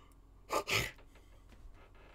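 A single drawn-out yawn: a short breathy intake followed by a longer open exhale, close to the mic and fairly quiet, then faint rustling in an otherwise quiet room.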